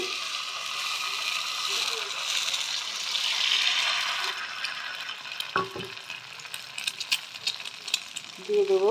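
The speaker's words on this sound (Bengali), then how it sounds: "দেখো এখানে আমি অল্প করে একটু তেল দিয়ে দিচ্ছি" A pan of Maggi noodles cooks as a little oil is added, giving a steady close sizzle that gives way to clattering stirring and scraping, with a short spoken phrase partway through.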